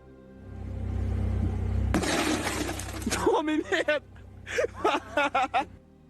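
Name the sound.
car window glass shattering while opening a beer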